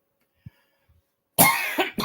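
A single short cough, close and fairly loud, after near silence with a faint earlier throat sound; it sounds like a real cough from a cold rather than throat clearing.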